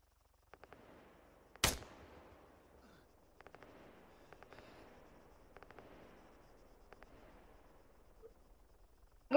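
Gunshots ring out in an Arma 3 firefight: one sharp, loud crack stands out amid scattered fainter pops and short bursts, with a steady low hum between them.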